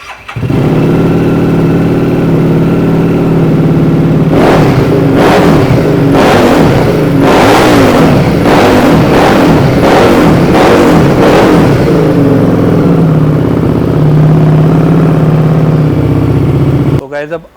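A used superbike at a Karol Bagh dealer idles loudly up close, then fires off a series of sharp throttle revs before settling back to a steady idle, with a voice speaking over it.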